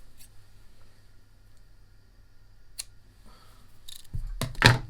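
Scissors trimming knit fabric at a sewing table, a few faint snips followed by a louder closer cluster of cuts near the end, with quiet room tone and no talking.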